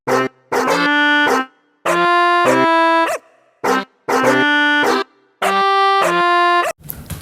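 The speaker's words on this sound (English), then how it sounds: "before those dogs interrupted me" Several dogs bark in loud, repeated bursts, near and clear, with short gaps between volleys and a brief yip or whimper, no talking over them.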